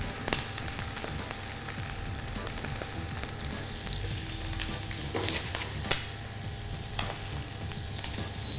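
Chicken pieces searing skin-side down in a hot pan as the heat is lowered, continuous close sizzling and popping with occasional sharp crackles and a brief scrape, no voices.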